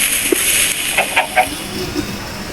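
Chickens in the Minecraft video game give a few short, scattered clucks, faint beneath a steady hiss of background noise.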